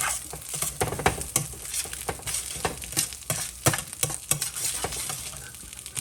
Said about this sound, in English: I'm going to try and get the tofu a bit fried a bit.